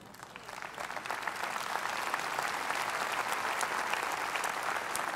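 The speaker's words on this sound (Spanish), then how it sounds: "Yo me quedé escuchándolos aplaudir" Congregation applauding during a Christian sermon, a dense, sustained burst of many hands clapping that swells slightly and holds steady, heard from within the hall.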